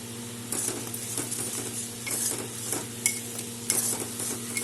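Spices for a rohu fish curry stir-fried in a pan, with a spoon scraping and tapping the metal in irregular strokes over a soft, steady sizzle.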